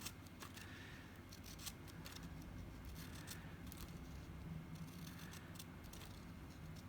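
Scissors snip through paper to cut a tassel, producing a steady run of quiet, close, crisp cutting strokes over a low background hum with no talking.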